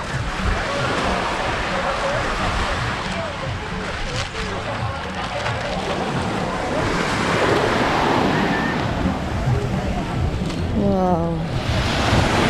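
Ocean waves wash steadily onto Es Canar beach on a sunny day, a continuous broadband surf mixed with wind buffeting the microphone, while voices and a brief exclamation sound over it.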